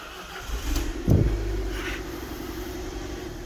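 An Alfa Romeo MiTo with a steering fault cranks over with a brief burst near one second, then its engine settles into a steady idle hum close by, with no talking.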